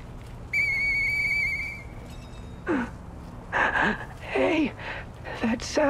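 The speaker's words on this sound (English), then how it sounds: "I know that whistle." A whistle in the video game Lies of P: a long steady whistled note followed by several short rising and falling whistled phrases, fairly loud and close, with breathy gasps between them.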